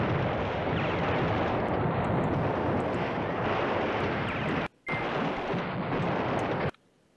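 Continuous rumbling artillery barrage and gunfire in the wargame Command Ops 2, a dense, loud roar that holds steady, drops out briefly near the end, returns, then cuts off.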